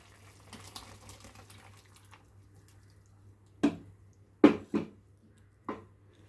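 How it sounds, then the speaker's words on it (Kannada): Water poured into a simmering egg and chicken curry (motte koli saaru): after a quiet stretch, a few brief, close splashes and gurgles. "ನೀರು ಹಾಕ್ತಾಯಿದ್ದೀನಿ ಸ್ವಲ್ಪ"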